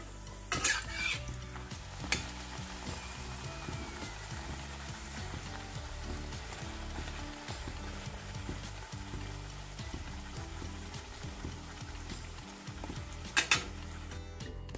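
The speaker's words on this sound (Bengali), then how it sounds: "আমার জন্য লুচি কটা ভেজে নিলাম" Luchi, puffed Bengali flatbread, frying in a pan of hot oil in a home kitchen, with a steady close sizzle, scattered utensil clinks and stirring knocks, and a couple of louder clatters near the start and end; no talk.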